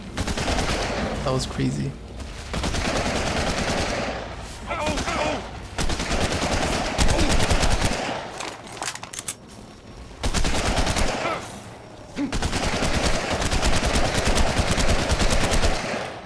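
Rapid automatic gunfire from a gun in the video game ARK, loud and close, comes in long sustained bursts separated by brief pauses, while someone speaks over it.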